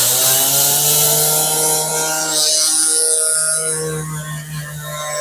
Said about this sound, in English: Now what I'm using here is using my rotary tool with a brass wire wheel on here.